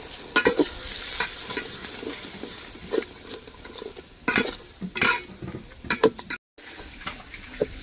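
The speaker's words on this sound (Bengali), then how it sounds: "এইভাবে নাড়াচাড়া করতে করতে মশলা কষতে থাকবো" Spices stirred and fried in a cooking pot with ginger paste, salt, turmeric and chili powder for a mutton curry: repeated scraping stirs and clinks over a steady close sizzle, with no voices.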